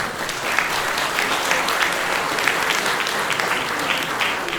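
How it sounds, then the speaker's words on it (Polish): Steady, dense applause from an audience at an award ceremony during a national users' convention for CompuGroup Medical Polska systems, sustained at an even loudness without pause. "Również proszę o brawa"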